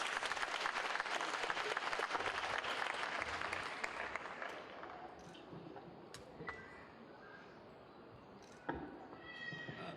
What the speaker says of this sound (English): I think they deserve a louder round of applause